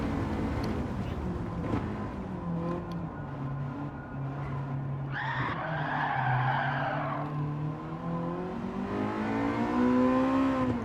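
Race car braking hard into a hairpin on a track, engine note dropping and a brief tire squeal in the middle before the engine revs back up, heard from inside the car.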